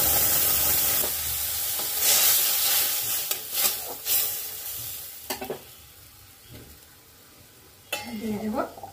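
A spice paste of cumin, tomato, ginger and a little onion fries in a hot pan, with a steady sizzle broken by intermittent stirring scrapes; a brief voice is heard near the end.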